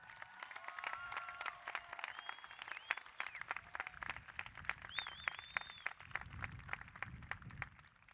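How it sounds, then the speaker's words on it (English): Clapping from a high school graduation audience, sustained and fairly distant, with scattered whoops and cheers and some shuffling mixed into the steady patter. "Big round of applause."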